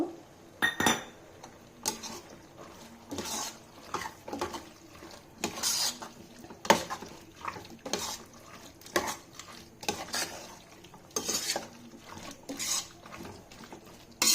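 Curd and spice masala frying in a pan on low heat for aloo capsicum rice, stirred with a metal spoon that clinks and scrapes against the pan in irregular bursts over a quiet background.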